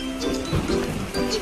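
Steady rain pours down in an animated children's scene where kids are out playing in the downpour, giving a continuous close hiss and patter with no speech.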